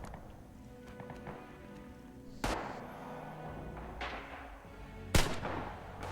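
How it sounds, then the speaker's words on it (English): Trench gun firing in the video game Aufmarsch: The Great War, two loud sharp blasts a few seconds apart over a low background battle rumble and scattered distant shots. "Someone's firing back. With the bloody trench gun."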